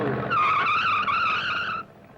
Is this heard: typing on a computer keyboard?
no